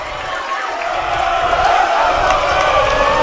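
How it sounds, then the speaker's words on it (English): A Haverford crowd at a water polo match against Episcopal Academy cheers and yells in a steady, loud, broad wash of voices that swells slightly toward the end. "And this Haverford crowd getting wild early."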